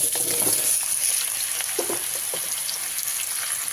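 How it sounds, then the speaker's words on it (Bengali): Pumpkin pieces frying in hot oil for a Bengali kumro chokka, a steady close crackling sizzle with soft stirring scrapes and no voices. "তেলটা ভালো করে গরম করে নিয়েছি কুমড়োগুলো দিয়ে দিলাম"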